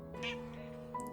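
A pet cat gives a single short meow close by, set against a quiet indoor room tone.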